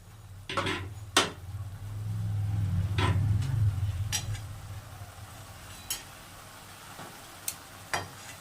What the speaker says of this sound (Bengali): একটু হাতা দিয়ে কিংবা খুন্তি দিয়ে এরকম করে দেবে